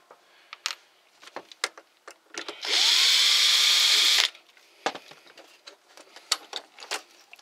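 A cordless power drill whirs steadily for about a second and a half, backing screws out of a Kobalt 40V hedge trimmer, with close clicks and handling taps of the tool and parts before and after.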